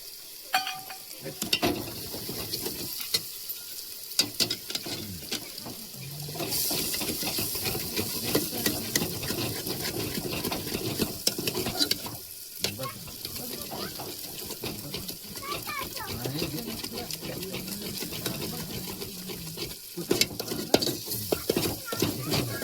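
Crab fat sizzling and spitting in a hot pan during crab cooking outdoors, a continuous close frying hiss with stirring clatter, under intermittent talk.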